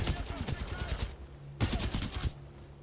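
Automatic gunfire from the video game Titanfall 2, two bursts of rapid shots with a quiet gap between, sounding close and punchy, with game sound layered around it.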